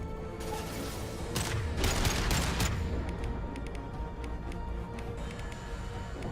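Rapid gunfire rattles in Mass Effect 2 combat, with bursts and a dense thudding blast, heavy and continuous at moderate loudness, followed by lighter scattered shots.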